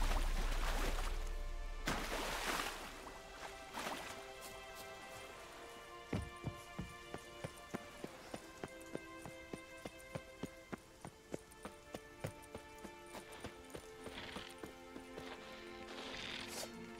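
Horse hooves clip-clopping in The Witcher 3, steady rhythmic beats emerging midway and running through to the end, with game music and ambient sounds layered underneath.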